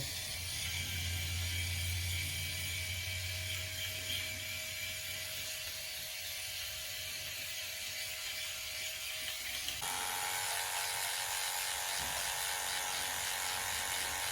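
A Philips Norelco 6000 Series wet/dry electric shaver trims sideburns with a steady, faint mechanical buzz that continues without a break and shifts in tone partway through, with no talking.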